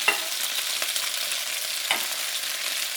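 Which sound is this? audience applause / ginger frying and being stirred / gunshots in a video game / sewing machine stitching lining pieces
ginger frying and being stirred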